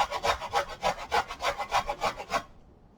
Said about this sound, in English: mince about 1 teaspoon of our fresh ginger on our grater